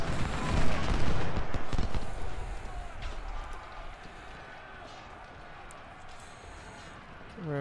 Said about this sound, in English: All right, start shooting.